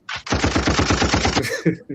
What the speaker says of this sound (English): I gotta add some gunshots to that.